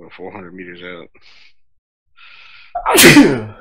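A person speaks briefly, a pause follows, then one loud, sharp sneeze bursts out close by.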